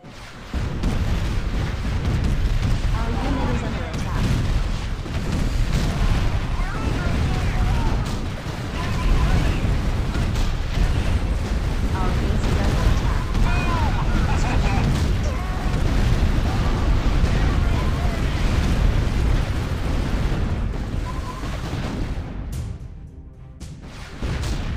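Artillery fire and explosions in the real-time strategy game Art of War 3 form a dense, continuous rumble of booms and blasts that stays loud throughout and thins only near the end.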